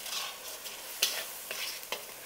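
Chicken pieces with salt, turmeric and red chilli powder are stirred in a hot pan for a chicken curry. A soft, close sizzle runs under three or four quick scraping strokes of the spatula.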